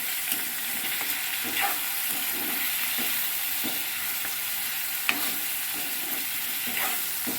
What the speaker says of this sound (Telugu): ఈ కర్రీకి సరిపడా ఉప్పు వేసుకొని ఒకసారి మొత్తం కలుపుకుంటున్నాము